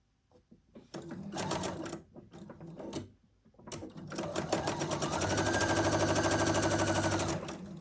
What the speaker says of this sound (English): We're going to start off with sewing the 2 squares together, pressing them, and then adding the C rectangle.